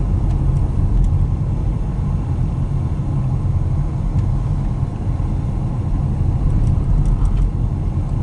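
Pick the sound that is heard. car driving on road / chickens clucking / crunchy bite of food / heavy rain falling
car driving on road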